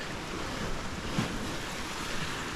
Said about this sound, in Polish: to stamtąd te fale tutaj wchodzą